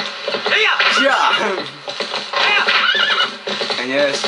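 Horse in the GameCube game The Legend of Zelda: Twilight Princess whinnies loudly several times in a row, with hooves clip-clopping beneath the neighs, close and prominent.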